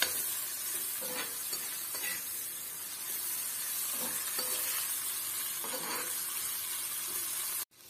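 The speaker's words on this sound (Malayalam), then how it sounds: "ഇതൊന്ന് മുരിഞ്ഞു വരുന്നത് വരെ നമുക്കൊന്ന് ഇളക്കി കൊടുക്കാം." Dried prawns fry with a steady, dense sizzle in a pan, with a few soft scraping stirs, close up with no talking.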